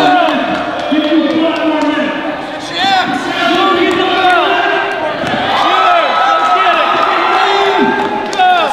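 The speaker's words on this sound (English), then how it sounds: "Crowd is going crazy here at PPW Fallout." Wrestling crowd at a PPW Fallout match roaring and cheering without letup, loud and close, with shouts and whoops rising over a dense wall of voices and a commentator talking over it.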